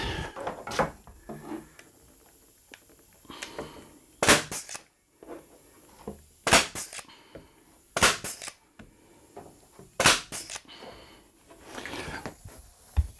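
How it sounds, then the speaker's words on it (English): A staple gun fires into a camper kitchen drawer cabinet, with about six sharp, loud snapping shots at irregular intervals and quieter handling rustles and clicks between them. "I'm gonna go ahead and staple this up here as well."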